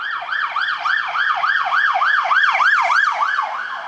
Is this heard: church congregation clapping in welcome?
no